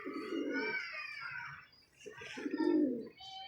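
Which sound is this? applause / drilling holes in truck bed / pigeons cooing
pigeons cooing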